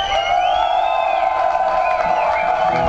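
Crowd at a rock festival cheering and whooping loudly and continuously, a dense roar of voices with rising shouts throughout.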